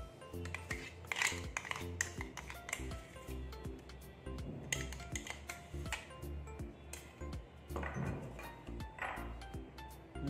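Green paste and roasted besan marinade are stirred together in a bowl, giving a run of irregular clinks and taps of a utensil against the bowl with soft wet squishing between, close and fairly quiet.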